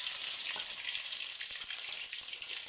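Onion, garlic and ginger paste sizzles steadily in hot oil in a pan, a close, continuous bright crackle with scattered small pops throughout.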